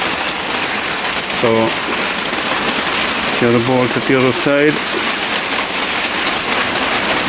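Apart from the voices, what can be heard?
heavy lashing rain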